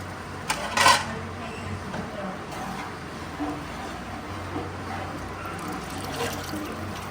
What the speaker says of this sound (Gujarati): આપણે પાણી પાણી ઉમેરી દેવાનું છે